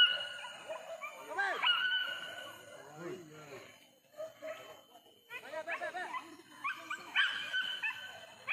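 A dog yips and barks in short, whimpering bursts through the clip, mixed with people talking nearby outdoors.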